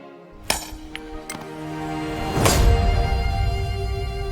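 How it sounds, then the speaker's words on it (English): A big sledgehammer strikes iron wedges driven into stone to split it, giving a few sharp metallic clinks that ring out over a loud rumbling game-cutscene backdrop. "I'm ready to split it open by hitting very hard on each wedge with a big sledgehammer."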